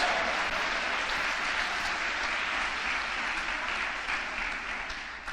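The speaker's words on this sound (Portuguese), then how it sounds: "dá uma salva de palmas ao Senhor" A church congregation applauds during a conference service, steady dense clapping that holds evenly throughout and fades slightly at the end, with no voices over it.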